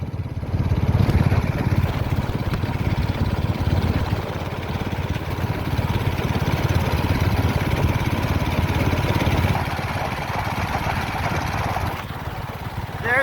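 A small engine-powered bicycle with a push trailer runs continuously, a steady buzzing two-stroke drone with wind rush, loud and close throughout.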